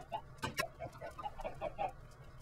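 Minecraft chickens cluck in a steady series of soft, short clucks at moderate distance, mixed with a couple of sharper clicks, with no talking over them.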